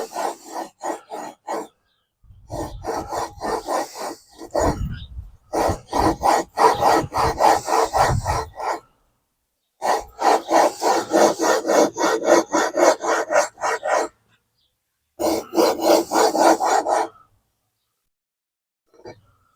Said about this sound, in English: Take our new Racer Pro Quip flywheel and we're going to lap it in.